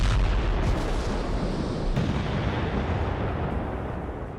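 Explosions from a Russian air strike in Kherson make a loud, continuous, rumbling roar with a sharp crack near the two-second mark, then slowly fade off toward the end.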